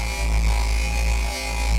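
A rip bass patch on the Harmor synthesizer with tremolo applied, a sustained buzzy low tone whose loudness pulses gently, loud and alone.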